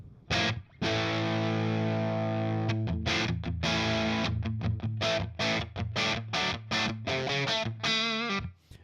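A distorted electric guitar on the bridge pickup plays a rock tone through a V30 speaker cabinet: a sustained chord, then a run of rhythmic stabbed chords, loud and alone.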